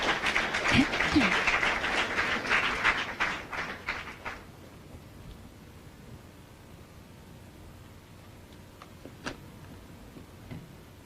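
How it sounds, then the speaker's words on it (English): An audience at a live morning event claps for an announcer, a dense burst of applause that thins into scattered claps and fades out after a few seconds, leaving quiet room tone with a few faint ticks. "We've been applauding"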